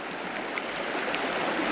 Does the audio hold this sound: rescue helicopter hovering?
no